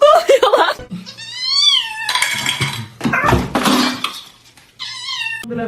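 A kitten meows repeatedly, loud and close, in a series of rising and falling cries with short pauses between them, and a person's voice is briefly heard in the background.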